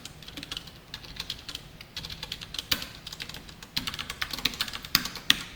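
Someone types on a computer keyboard while writing CSS code, with quick bursts of close, crisp key clicks in an uneven rhythm and no talking.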